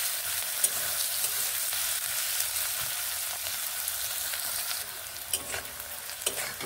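Onions fry toward brown in a pan for a green pea dish, a faint, steady crackling sizzle broken by a few sharp ladle taps and scrapes near the end.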